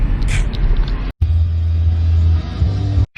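Steady low engine rumble and road noise from a car being driven, continuous and close, with two brief dropouts and no talking.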